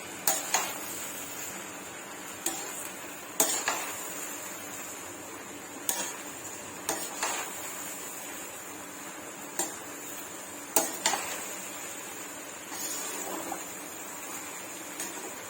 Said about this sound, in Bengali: এবার দুধটা ভালো করে আমি মিশিয়ে নিচ্ছি ভালোভাবে